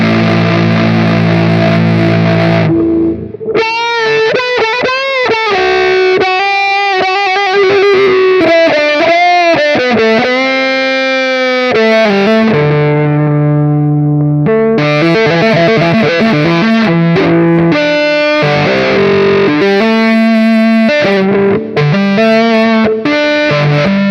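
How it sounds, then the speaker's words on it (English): Loud electric guitar, a Fender Squier Starcaster Classic Vibe through a wah pedal, with a distorted, sweeping wah tone, playing bending riffs and chords continuously with brief pauses. "Who fancies a bit of wah guitar?"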